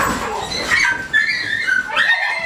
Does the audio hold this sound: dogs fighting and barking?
yes